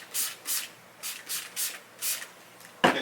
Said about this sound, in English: Get a couple sprays on it.